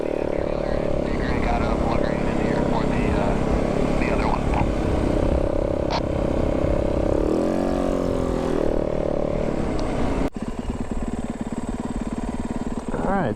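A snowmobile engine drones steadily while cruising along a snowy ridge in British Columbia, a loud, close, even hum with a brief pitch shift partway through.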